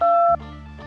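A single short two-tone phone keypad beep, clear and close, followed by a low hum.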